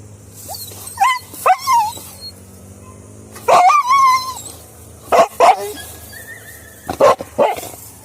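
A dog barks in short bursts during a hunt at Bukit Gombak, Solok, West Sumatra, mixing sharp yips and higher whining yelps, fairly close and loud, with quiet gaps between outbursts.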